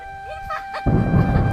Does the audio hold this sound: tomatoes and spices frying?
no